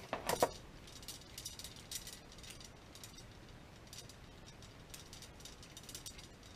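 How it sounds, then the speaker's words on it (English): A hydraulic brake line flaring tool is pumped by hand, giving a quiet run of mechanical clicks and ratcheting ticks, a louder clack at the start, then softer repeated pumping noises. "and just pump it."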